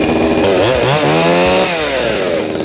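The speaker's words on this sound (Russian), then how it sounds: "Владос, мне кажется, пора заводить пилу." A chainsaw starts up and runs loudly close by, cutting through a block of ice, its engine pitch rising and falling as it revs.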